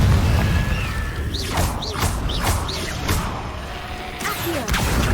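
Confringo explosive spells fire in Hogwarts Legacy, several quick whooshing bolts followed by crashing booms in a dense, loud game soundscape, with no voices.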